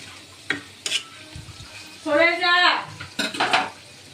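Onion fritters (peyaji) are turned over in a frying pan with whatever utensil is at hand, giving close scraping and clanking over a sizzle, with a brief squealing scrape in the middle.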